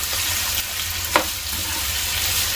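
Potatoes fry steadily in a pan for potato bhujia, a continuous close hiss of oil with one brief sharp stir or scrape partway through, no voices.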